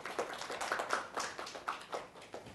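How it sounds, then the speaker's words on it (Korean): An audience claps at a Korean lecture on the classic tales Guunmong and Chunhyangjeon, a brief, soft patter of hands heard from a distance that fades within a few seconds. "박수 한번 쳐주십시오."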